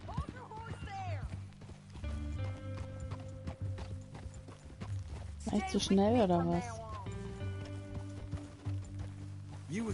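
Horse hooves clop in the video game Red Dead Redemption 2 under game music, with a neigh partway through and a person speaking over the sounds.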